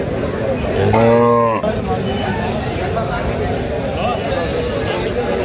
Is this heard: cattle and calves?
yes